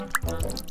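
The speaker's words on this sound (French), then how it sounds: "On va patauger avec nos mains." Hands splash and paddle in water in a makeshift pool, giving a short burst of drips and sloshes, close and moderately loud.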